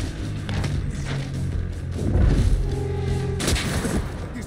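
Gunfire in the tactical video game Gears Tactics: a few heavy booming shots and thuds over a steady low rumble of music and battle ambience, one louder burst near the middle and another toward the end.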